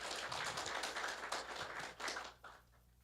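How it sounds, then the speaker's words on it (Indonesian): A stand-up comedy crowd claps and applauds steadily for a couple of seconds, a dense wash of hand claps that fades out toward the end. "Tepuk tangan buat Etawalin."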